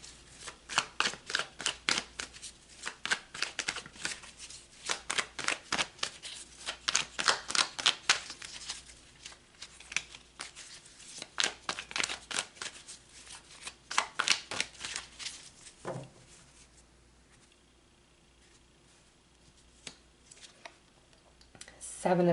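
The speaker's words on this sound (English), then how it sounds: "So let's pull some tarot." Tarot cards being shuffled by hand, a rapid run of crisp riffling clicks that repeats for about fifteen seconds and then fades to quiet handling.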